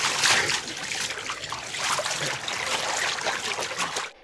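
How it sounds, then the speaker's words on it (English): Water splash sound effect of a cartoon dog swimming across a moat, continuous splashing and trickling, moderately faint and steady, alone without talk. "Scooby swam across the moat."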